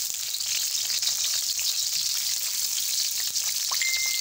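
Aromatics sauté in a little cooking oil for ginataang tulingan pirit, making a continuous close, crackling sizzle with scattered pops and no voices over it.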